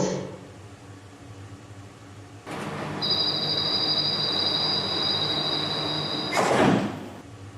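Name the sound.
airport transit train running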